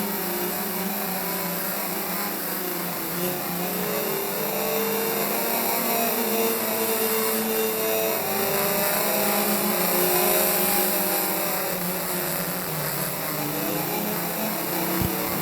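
Compact division race cars lap Midvale Speedway, a steady broad engine roar that holds at an even, distant level for the whole stretch, with no clear passes or individual revs standing out.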